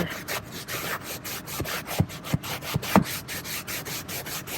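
A brush scrubs a stained car seat with steady back-and-forth rubbing strokes, close and moderately loud, with a few sharper scuffs partway through.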